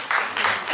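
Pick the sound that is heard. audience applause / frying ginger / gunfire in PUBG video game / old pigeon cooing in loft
audience applause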